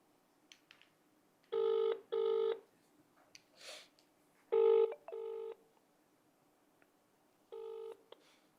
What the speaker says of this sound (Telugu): ఈ ఈ ఒకసారి ఫోన్ చేద్దాం.